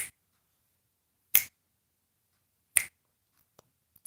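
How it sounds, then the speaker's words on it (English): Two crisp finger snaps ring out about a second and a half apart in a quiet room, followed by a few faint ticks and a final snap at the end. "Snap your fingers, everybody."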